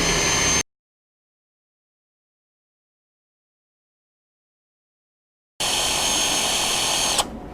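A Warcraft-brand power tool runs at full speed during an RPM test, giving a loud, steady whine in two bursts split by several seconds of dead silence. The second burst ends with a slight change in pitch.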